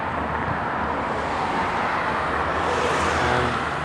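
Steady highway traffic at Humber Bay in Toronto, a continuous broadband roar of passing cars with some wind buffeting the microphone, loud and unbroken with no voices.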